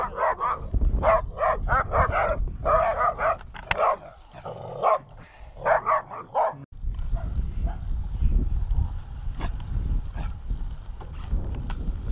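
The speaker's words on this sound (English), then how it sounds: "Don't bark at me." A cluster of dogs barks repeatedly and loudly close by, quick overlapping yaps, followed by quieter outdoor noise with occasional distant barks.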